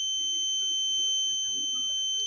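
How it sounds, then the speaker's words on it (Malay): Buzzer alarm of an IoT flood monitoring system, a continuous shrill electronic tone sounding loudly and steadily without a break. "buzzer telah berbunyi dan ini adalah buzzer"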